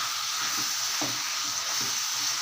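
Rabbit fry with pepper being stirred in a hot pan, a steady loud sizzle with soft scraping stir strokes throughout, no talking.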